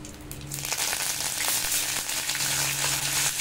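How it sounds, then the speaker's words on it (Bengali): Black mustard seeds and curry leaves fry in hot mustard oil in a pan, a close, crackling sizzle with scattered pops and spits that grows busier as it goes, with no voices. "এখানে সর্ষে দিয়ে কারি পাতা ভাজা করে নিয়েছি"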